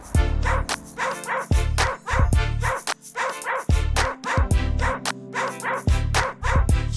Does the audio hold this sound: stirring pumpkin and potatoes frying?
no